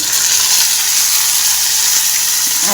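A small chopped tomato hits hot oil in a frying pan and sets off a loud, steady, hissing sizzle that holds evenly throughout, close by and with no voices.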